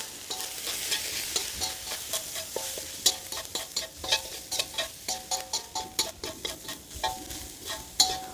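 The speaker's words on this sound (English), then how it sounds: "Now let's give this a nice good mix." Chicken samosa filling with cumin and dhania powder being stirred in a hot pan, steady sizzling frying under a run of quick rhythmic scraping strokes of the spoon, close and moderately loud with no talking.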